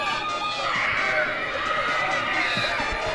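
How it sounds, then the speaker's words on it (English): Crowd noise fills an indoor youth football game between the 11U Perry Hall Gators and Bel Air, a steady roar of cheering and shouting with scattered thumps, close and sustained, with voices mixed in. "And this Perry Hall crowd is ready to cheer their team on."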